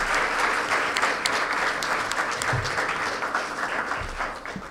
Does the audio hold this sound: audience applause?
yes